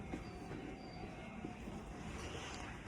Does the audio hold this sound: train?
yes